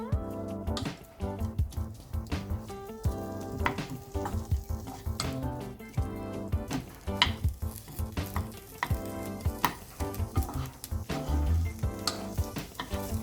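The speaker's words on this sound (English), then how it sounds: "अब अपने ऑनियन और कैप्सिकम को हम थोड़ा सा फ्राई कर लेंगे" Onion and capsicum stir-fry in hot oil in a pan, a continuous sizzle with tossing and stirring noises, partly buried under steady background music.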